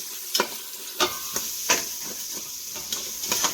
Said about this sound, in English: So I'm just going to saute these.